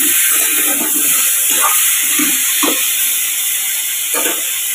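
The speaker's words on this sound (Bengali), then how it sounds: "যে আলু পটলটা ভেজে নিচ্ছি" Potato and pointed gourd frying in oil make a steady close sizzle and hiss, with a few soft stirring clatters scattered through, heard alone without talk.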